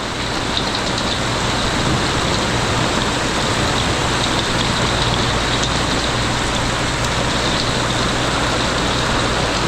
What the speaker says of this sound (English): Nice little rain.